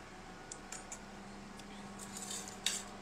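Serving spoon clinking lightly against dishes during a shared meal of mushroom curry, pork-sausage salad and hot sticky rice: a few faint, sparse metallic taps over a low steady room hum.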